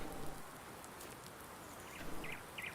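Rain-like glitch noise in the farming video game Farming Simulator 19, a faint steady patter like rainfall on a surface, with a few brief chirps near the end and no speech.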